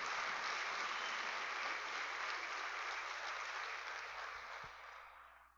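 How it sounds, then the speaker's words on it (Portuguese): Church congregation applauding during a worship service, a steady wash of clapping from many hands that holds for several seconds and then fades out. "Dá um aplauso a Jesus aí por isso."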